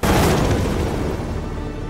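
A gas factory blows up in Call of Duty Modern Warfare, a loud, sustained roar of explosion and rumbling debris filling the whole stretch with no voices.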